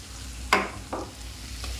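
Okra tipped into a pan of frying tomato masala, two short rushing hisses as the pieces land, over a low steady sizzle.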